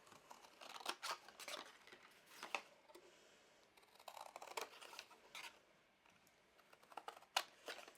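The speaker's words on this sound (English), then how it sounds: "you can see I can really easily cut through it with my scissors" Quiet, repeated snips of scissors cutting through a stiff embossed embellishment, irregular and close, with faint crinkling between cuts.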